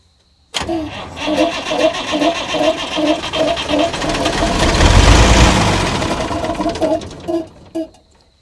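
Starter cranking a 50-year-old International 6x6 army truck engine, a steady rhythmic churn that runs for several seconds, swells loud, then cuts off with a couple of short final bursts.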